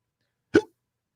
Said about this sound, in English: See, I've got the hiccups.